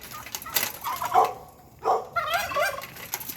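Turkeys on a small farm gobble in a few loud, rattling bursts close by, with a brief gap between calls and light background noise.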